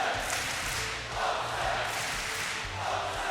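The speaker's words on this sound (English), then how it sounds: "Never have I ever heard such a loud crowd in Sweden before" A big esports arena crowd at a DreamHack Masters Counter-Strike match in Malmö, Sweden, roars in a continuous wash of noise that swells and eases in waves.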